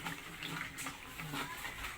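A homemade dishwashing liquid mixture being stirred over and over, giving a steady watery sloshing swirl that runs throughout, close and moderately loud.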